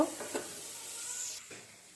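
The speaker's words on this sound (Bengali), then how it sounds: "ভালো করে লাল লাল করে ভেজে শুকনো মরিচ আর কালো জিরে দিয়েছি" Dried red chillies and black cumin seeds fry in hot oil in a home kitchen, giving a faint, steady sizzle with a few soft stirring scrapes.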